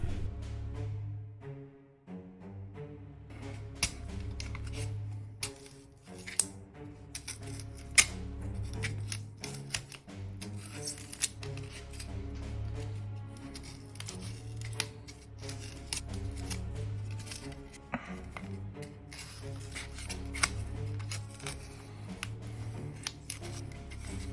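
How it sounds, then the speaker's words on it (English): Staple remover gouging and carving holes into a diorama base, producing quiet, irregular scraping and snipping clicks scattered across a long stretch, close and faint with no talk. "I'm going to carve out the holes where the carnivorous sod pop out of using my favorite type of stapler remover."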